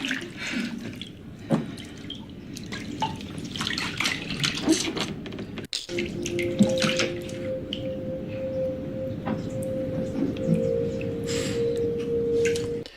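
Water sloshing and dripping in a bathtub in a scene from the TV drama Homeland, with scattered splashes and drips over a quiet room and a sustained tone entering midway.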